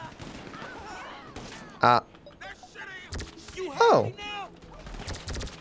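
Sniper rifle shots in the Grand Theft Auto V video game ring out as two sharp, loud bursts a couple of seconds apart, surrounded by ongoing game sounds and a person talking.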